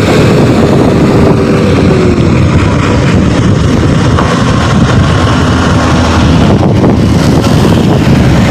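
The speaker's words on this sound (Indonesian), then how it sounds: "Angin cukup kencang rekan ya. Mohon maaf ya. Bila audio saya lebih keras suara angin." Strong wind buffets the microphone while riding along a congested road between Malang and Lumajang, producing a loud, constant roaring rumble that masks everything else for the whole stretch.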